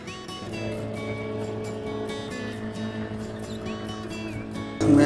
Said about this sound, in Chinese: 现在把这个破胎充上气儿